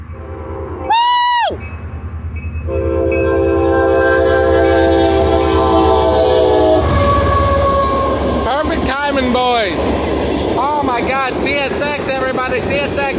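A CSX mixed freight train rolls past close by, its horn sounding loudly over a steady rumble and clatter of cars, with someone talking excitedly over the noise.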